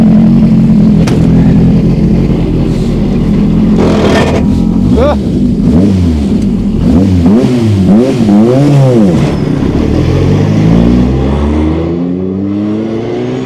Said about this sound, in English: sets off in the Escort and approaches turn 1